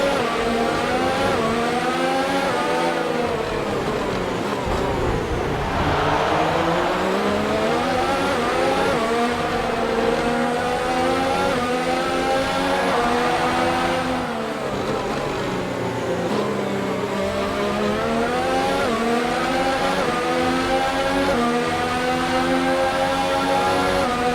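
F1 car engine in a Brazil Grand Prix racing video game, loud and constant, its pitch sweeping up and down through repeated shifts and revving, with faint tyre noise underneath.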